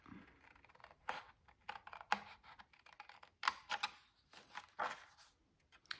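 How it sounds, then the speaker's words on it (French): Scissors cut out a paper star decoration up close, a series of crisp snips and rustles of paper in uneven bursts, with short quiet gaps between cuts. "Donc, je vais couper maintenant."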